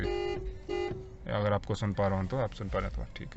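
Two short, bright honks from a Hyundai i20 car horn in quick succession, followed by someone speaking close by.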